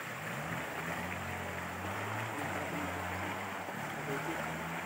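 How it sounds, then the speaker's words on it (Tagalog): A small waterfall on a river in Quezon gives a steady, broadband rush of falling water that holds evenly throughout, with faint voices talking underneath. "Yung falls."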